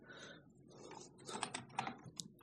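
Typing on a BBC Micro computer keyboard, with close, irregular key clicks that grow busier and louder toward the end, heard alone with no voices.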